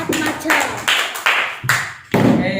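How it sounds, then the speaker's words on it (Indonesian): A handful of loud, close claps in a classroom for two students, coming as separate sharp bursts roughly every half second rather than a full round of applause. "tepuk tangan untuk Mas Dapul dan Mas Maulana"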